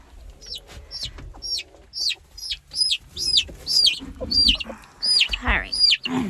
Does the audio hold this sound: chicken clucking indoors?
yes